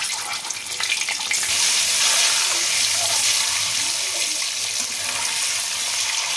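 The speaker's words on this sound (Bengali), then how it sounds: "ভেজে নিচ্ছি" Boiled red potatoes fry in a pan with a loud, dense hiss that rises after the first second and then holds steady, with no voices over it.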